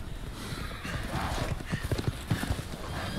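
Rhythmic clip-clop of horse hooves in Resident Evil Village, fairly close, over a busy game soundscape with faint background voices.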